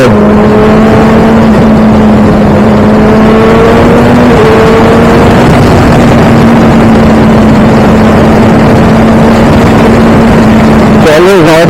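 A 2019 Kawasaki ZX6R engine drones steadily at high revs, with a strong sustained tone that holds and slightly shifts pitch, mixed with heavy wind rush; loud and close, ending with a brief change in engine note.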